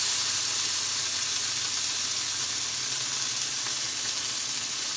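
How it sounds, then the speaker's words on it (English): Marinated elk steaks sear in a hot cast iron skillet, giving a loud, steady, close sizzle that holds unbroken for the whole stretch with no talking. "transfer our elk steaks that are marinated onto the cast iron skillet, and I'm going to sear them"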